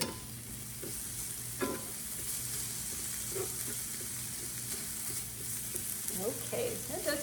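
Pancetta and onion fry in a pan with a steady soft sizzle, broken by occasional stirring scrapes and clinks, close and moderately quiet, with faint background sounds near the end.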